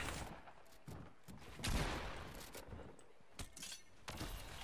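Faint video game gunfire from Fortnite Battle Royale, scattered rapid shots and bursts in a public lobby, quiet and somewhat distant under a noisy game mix.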